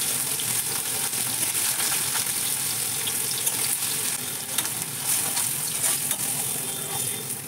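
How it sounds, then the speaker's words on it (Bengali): Paneer frying in a pan gives a continuous, even hiss and sizzle with small crackles throughout. It is close and steady, with no one talking. "তো চলুন পনিরটাকে ভেজে"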